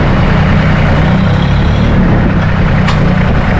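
Massey Ferguson 1825E SynchroShuttle compact tractor running in forward high-range second gear, its engine raised by foot throttle: a steady, loud, close diesel drone with a dense low rumble that holds without pause.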